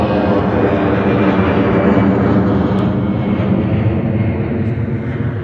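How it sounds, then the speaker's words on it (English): Emirates Airbus A380 flying overhead near London Gatwick Airport in winter, with a loud, steady, broadband jet roar sustained throughout and heard on its own. "there is an Emirates Airbus A380 flying overhead"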